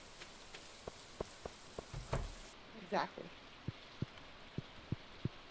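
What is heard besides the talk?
rain falling in video game Stardew Valley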